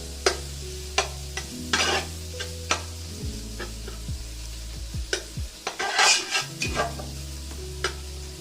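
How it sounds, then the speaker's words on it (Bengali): Grated ginger frying in a pan, stirred with a large spoon: repeated sharp metal clicks and scrapes over a constant sizzle with a low hum underneath, close and clear. "এরপরে এটাকে একটু আমরা নাড়াচাড়া করে দেবো"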